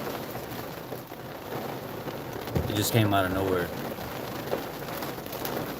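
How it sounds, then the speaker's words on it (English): Heavy rain pours outside in a dense, constant hiss with a brief louder surge partway through, while a person talks over it. "this rain is nuts"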